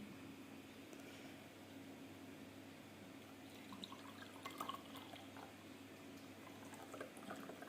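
Faint liquid trickling and dripping as water is poured into a homemade health cocktail, quiet and close with a low background hum and a few brighter splashes in the middle.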